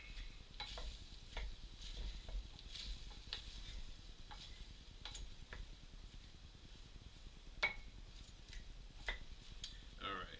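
Cabbage and onions being stirred in a soup pot, a faint, steady run of soft scrapes and light utensil taps against the pot over a quiet low sizzle, with no voices.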